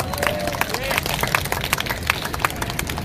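Audience at a Korean history lecture clapping in a loose, uneven patter of hand claps, fairly close, with some crowd murmur mixed in.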